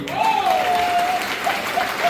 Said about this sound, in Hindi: एक जोरदार ताली बजनी चाहिए